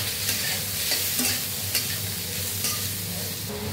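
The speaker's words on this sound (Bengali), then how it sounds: "এবার আমি দিয়ে দেবো সোয়াবিনগুলো ভাজা করে নেবো" Soybean chunks fry with potatoes in a pan, giving a steady, close sizzle broken by light stirring scrapes, with no voices.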